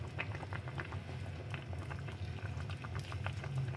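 Crab in coconut milk with okra, eggplant and chili bubbling in a pot, a soft steady boiling with small irregular pops and patters, quiet and close.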